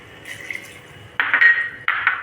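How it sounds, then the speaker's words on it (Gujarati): Two short bursts of water splashing and pouring into a pressure cooker with spiced masala dosa filling, with quieter kitchen clatter before them. "હવે આમાં થોડું પાણી નાખીને"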